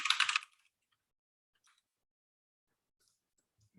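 A short, close burst of computer keyboard typing, a quick cluster of clicks lasting under half a second, followed by near silence with a couple of faint taps.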